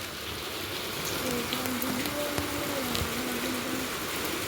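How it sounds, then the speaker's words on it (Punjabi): Steady, dense rain with hail falling outdoors, a continuous close hiss of drops on surfaces lasting throughout with no breaks. "ਹੁਣ ਮੀਂਹ ਆ ਉਹ ਮੀਂਹ ਆਉਂਦਾ ਪਿਆ"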